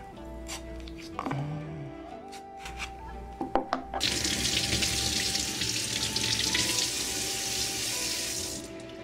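Aloe vera leaf being rinsed under a running kitchen tap: a steady, close splashing rush of water into a sink that starts abruptly partway through and continues to the end, after a few light handling clatters.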